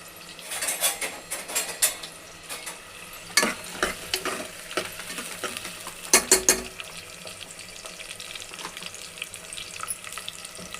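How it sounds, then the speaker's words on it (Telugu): Onions frying in a pressure cooker for mutton masala, with a steady sizzle beneath sharp metallic clinks and scrapes of a utensil against the pot, louder clatters near the start and around six seconds. "కుక్కర్లో ఆనియన్స్ వేసుకొని బాగా ఎర్రగా వేగే వరకు వేగించుకోవాలి"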